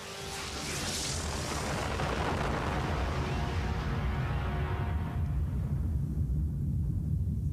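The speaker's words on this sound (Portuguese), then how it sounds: "acontece a primeira explosão atômica no deserto do Novo México" The first atomic bomb test in the New Mexico desert, heard as a sustained, heavy rumbling roar that swells in and holds for several seconds, slowly losing its upper hiss as it fades into a deep, steady rumble.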